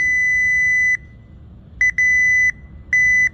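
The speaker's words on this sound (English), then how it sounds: "we get that audible beep" A multimeter continuity test on a 2015 GMC Acadia's wiring gives a high electronic tone in short bursts: one long beep, then a quick double beep, another long beep, and a final one.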